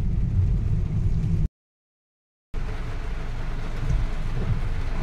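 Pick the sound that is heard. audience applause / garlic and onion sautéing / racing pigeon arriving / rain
rain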